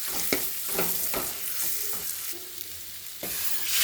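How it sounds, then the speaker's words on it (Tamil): Chilli, turmeric and pepper powders are sautéed in a pan for mackerel curry: a gentle frying hiss under repeated sharp scraping strokes of a spoon stirring the mixture, fairly close. "இப்போ நல்லா வந்து வதக்கிடலாம்"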